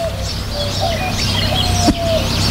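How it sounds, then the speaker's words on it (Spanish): Birds chirp and warble beside the Yaqui river, several calls and a dove-like coo over a steady outdoor background, moderately near, without talk. "Ahorita estamos escuchando el trinar de las aves, el gorjeo."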